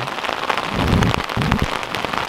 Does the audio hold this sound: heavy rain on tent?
yes